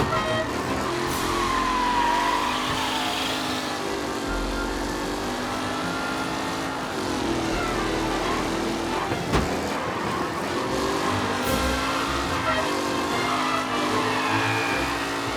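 Race cars roaring around a track in Mafia: Definitive Edition, a steady loud engine drone with shifting pitch as the pack runs close together, continuous throughout with no talk.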